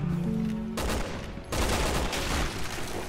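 Gunfire crackles in the video game Resident Evil 6 as a dense, continuous burst of rapid shots and explosive noise, loud and close, with no talk over it.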